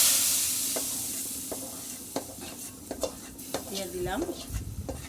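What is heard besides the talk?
nigella seeds (kalo jeera) sizzling and stirred in hot oil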